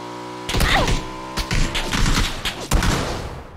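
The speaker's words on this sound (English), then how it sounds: "Why did that guy shoot the back tire of our bike?" Gunfire in PUBG shooting at the back tire of a motorbike, several loud sharp shots spread irregularly over a few seconds amid game noise.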